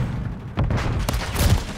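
A MORS rifle shot punches through a wall in MW3 multiplayer, giving a couple of short, heavy booms over a steady game-noise bed, close and moderately loud.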